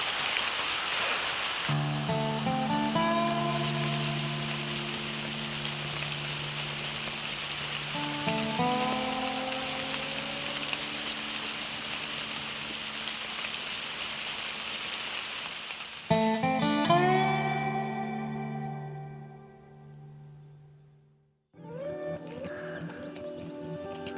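Steady rain hisses and patters on a campsite in Georgia without a break, fairly close, with some tonal sounds above it before the noise drops out near the end.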